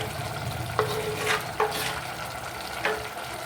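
Tomatoes frying in a pan for mutton curry, a low continuous sizzle broken by three or four sharp scraping stirs of a spoon, close up with no talking.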